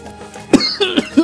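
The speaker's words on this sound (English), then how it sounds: "Oh, my God. I'm coughing." Person coughing, several sharp close coughs in quick succession, loud and abrupt against a quiet background, with no speech between them.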